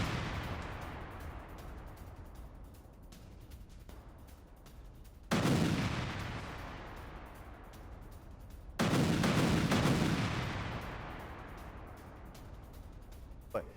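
Two heavy explosions boom a few seconds apart, each a sudden loud blast trailing off into a long rumbling decay over low background noise.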